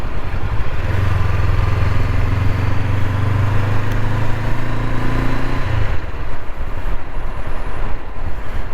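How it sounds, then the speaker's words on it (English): Motorcycle engine drone while riding on an evening cruise to a lake, a steady low rumble with strong wind noise throughout that drops away near the end as the bike slows. "tonight would be a excellent evening to take a cruise, go for a motorcycle ride"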